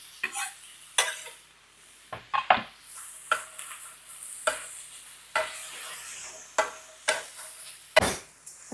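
Hamburger meat halfway browned in a pan as chopped onion goes in, with a steady sizzle and frequent sharp scrapes and clinks of a utensil stirring against the pan, fairly close.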